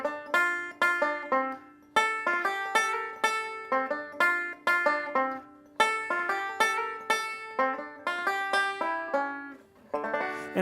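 Banjo plucking the closing measures of a song, a clear, bright run of picked notes and ringing chords with a steady rhythm, played close and alone.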